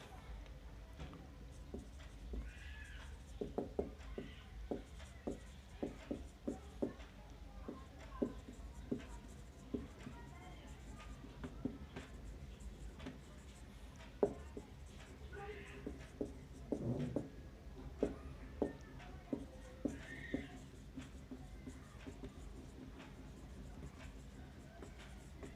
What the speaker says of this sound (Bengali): এই জাবেদাগুলো কি কি হয় আমি লিখে দিচ্ছি, তোমরা লিখে নিতে পারবে